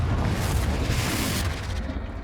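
A Confringo spell explodes in the video game Hogwarts Legacy, a loud, dense, rumbling blast that fills the whole moment and fades slightly toward the end.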